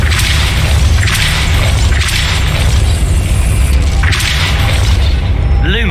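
Depulso spell cast in the Hogwarts Legacy video game, heard as a loud whooshing magical burst with booming impacts repeating about every two seconds over a steady low rumble of game ambience.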